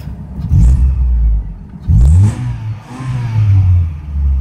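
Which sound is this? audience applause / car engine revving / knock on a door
car engine revving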